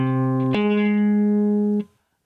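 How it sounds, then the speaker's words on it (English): Electric guitar plays a minor sixth interval, one tone struck and held, then a second higher note added and sustained, bright and close, ending abruptly into silence. "The next interval we're going to talk about is a minor sixth,"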